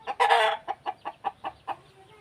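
Chickens cluck close by in the Thai countryside: one longer, louder call followed by a regular series of about six short, sharp clucks.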